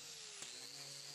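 A high, steady whine of a power sander smoothing a fiberglass boat hull repair runs throughout at moderate volume, with one brief bump in the middle.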